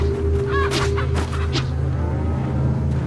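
A chicken from the video game Resident Evil 4 gives a few short clucks and squawks over a steady low in-game hum, fairly close and brief.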